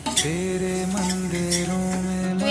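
Mathura-style peda mixture is stirred in a pan on a gas stove, with a continuous soft scraping and light sizzle, close and without talking.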